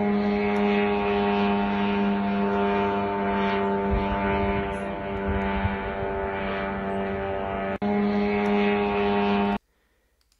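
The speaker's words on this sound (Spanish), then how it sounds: "Estaban llegando los drones Gerán a Kiev." Geran attack drones flying over Kyiv during a large night attack, a loud steady droning engine buzz that holds for about nine seconds with one brief dip near the end before cutting off abruptly.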